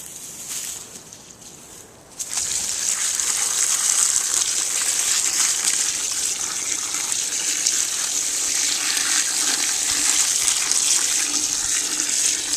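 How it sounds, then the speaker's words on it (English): Water gushes steadily from a hose or tap onto clay, a continuous hissing pour that starts abruptly after a short pause and runs unbroken. "I'm going to put a little water with it"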